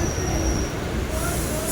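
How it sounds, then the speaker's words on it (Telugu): A local train running between Tambaram and Egmore, heard from inside the carriage as a steady loud rumble and rattle of wheels on track with a faint high squeal, continuous throughout. "సో నేనైతే ఇప్పుడు ట్రైన్లో అయితే ఉన్నా. ఇది ఒక లోకల్ ట్రైన్ అనమాట."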